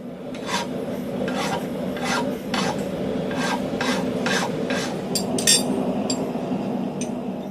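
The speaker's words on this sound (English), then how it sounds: "Do a little filing and such to smooth out any edges, any rough edges." Hand file rasping along the rough edges of hand-forged blacksmith square-jaw tongs, with steady, evenly spaced strokes, close and loud, plus a few light metallic clinks near the end.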